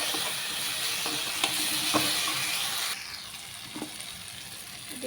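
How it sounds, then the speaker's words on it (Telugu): Moong dal lentils fry with drumstick leaves in a pan, giving a steady close sizzle broken by occasional scraping stirs, the hiss easing slightly partway through. "పప్పులన్నీ శుభ్రంగా మంచిగా వేయించుకోవాలండి"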